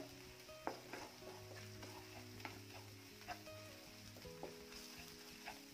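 Sliced okra with chili powder and spices being stirred in a frying pan, a continuous close sizzle broken by periodic scraping knocks of the spoon against the pan, no voices.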